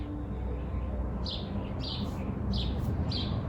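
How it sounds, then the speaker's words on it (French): Small birds chirp and tweet outdoors nearby, short repeated high calls rising above a steady, fairly loud background wash. "il y a des oiseaux qui chantent tout près de moi"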